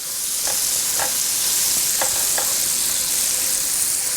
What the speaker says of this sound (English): Just let that sweat down a little bit in the olive oil and butter.